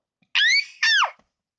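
A person's voice imitates a high-pitched, screaming sneeze in two loud bursts, a shrill rising cry and then a second shriek that falls away, close and alone.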